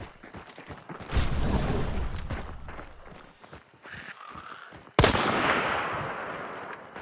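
Gunfire in the game Hunt: Showdown, fired at a zombie: two loud, close blasts, each with a long rumbling tail, the first near one second and the second sharper at five seconds, with quieter shuffling between them.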